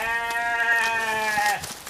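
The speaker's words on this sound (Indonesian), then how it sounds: "Ih, kambing berisik nawe" A goat in a village bleats loudly and close, one long wavering cry that fades out near the end, heard alone without talk.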